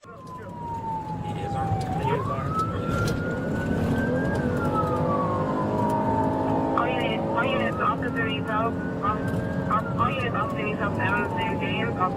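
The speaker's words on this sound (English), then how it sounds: "With lights and sirens activated, officers rushed to the scene" A Los Angeles police patrol car's siren wails in long rising and falling sweeps over a steady engine and road rumble, loud and close, with a faster yelping pattern in places.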